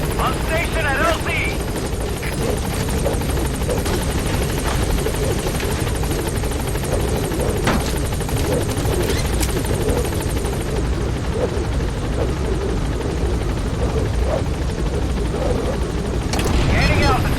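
Helicopter in Metal Gear Solid V: The Phantom Pain approaching a landing zone, a loud, steady rotor drone filling the whole stretch with dense layered game noise and occasional booms, a radio-style voice over it.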